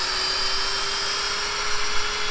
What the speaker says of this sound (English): I'm drilling my hole up to the mark that I put on the tree